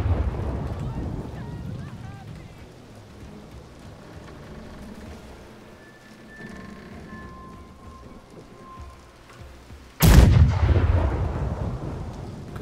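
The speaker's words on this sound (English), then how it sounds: "Right side cannons, you can fire." A ship cannon fires once in the naval game Blackwake, a sudden loud boom that follows a long stretch of rain-like ambient rumble and some distant voices.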